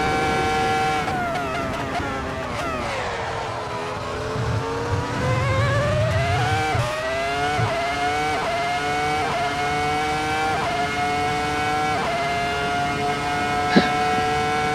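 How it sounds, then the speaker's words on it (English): A V10 race car engine on track screams at high revs, its pitch dropping and climbing through repeated gear changes and rising sweeps, loud and steady with no speech. "That V10 noise."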